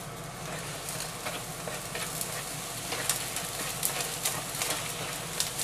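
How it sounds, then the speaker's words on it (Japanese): Shirataki noodle yakisoba with chicken, miso and plenty of vegetables stir-frying in a pan, giving a steady, dense sizzle with scattered scraping and tossing sounds throughout, close and continuous. "さてしっかりと炒めていきます"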